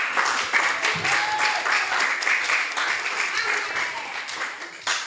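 Students in a classroom applaud a classmate's answer during a biology lesson on bacteria, a brisk burst of many hands clapping close by, with a voice briefly heard underneath.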